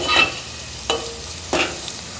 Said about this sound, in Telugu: ఆనియన్ పచ్చిమిర్చి ముక్కల్ని మాడకుండా స్టవ్ని మీడియం ఫ్లేమ్లో ఉంచుకొని నెమ్మదిగా గరిటితో తిప్పుతూ ఫ్రై చేసుకోవాలి